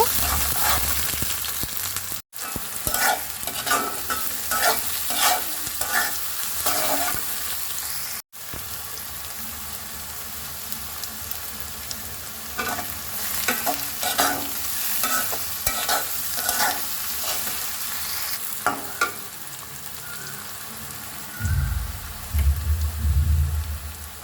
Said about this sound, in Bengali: আমি এর মধ্যে পেঁয়াজ মরিচ ভালো মতো ভেজে নিব